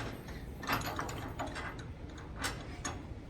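A bench vise is tightened in a workshop while hammers are being tuned up, giving a string of close, irregular ratcheting clicks and metallic ticks over a steady background.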